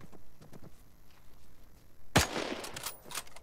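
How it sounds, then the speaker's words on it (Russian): A single sharp, loud gunshot-like crack in a video game cuts through low background noise, followed by a few scattered fainter bursts. "Да нет, просто стреляю"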